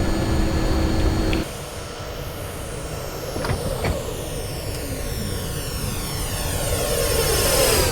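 McDonnell Douglas MD-80 jet engines climb after takeoff in the X-Plane 10 flight simulator: a loud, steady, close jet roar with rising and falling whine tones layered over it, continuing without pause.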